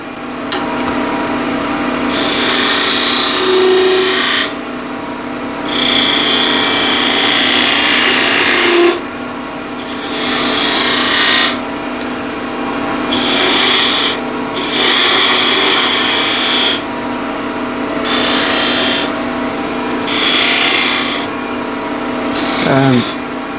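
A spindle gouge shears a spinning wooden spindle on a lathe, shaping beads and a small cove in repeated steady cutting passes with a hissing, rasping tone, pausing briefly between strokes over a constant motor hum.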